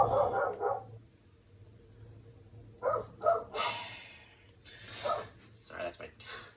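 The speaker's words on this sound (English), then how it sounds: "Sorry, that's my dog." A dog barks outside a window in short bursts, some doubled, separated by pauses, and sounds moderately close. Quiet rubbing or handling noises come between the barks.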